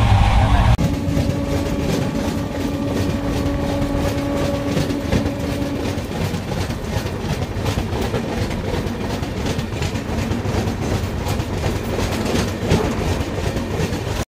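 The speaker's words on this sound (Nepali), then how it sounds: "यो ट्रेनमा चाहिँ अलिक धेरै पहिलाको भन्दा धेरै हल्लायो" A passenger train near Tundla, India, rattles and shakes steadily with continuous clattering wheels and rumble, loud and unbroken, with a brief tonal hum early on.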